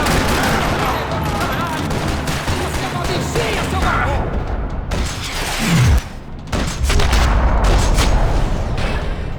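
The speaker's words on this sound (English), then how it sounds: "Another parking lot rattling with gunfire." Rapid bursts of gunfire in a parking lot crackle almost nonstop, loud and close, with a brief lull midway before the shooting resumes.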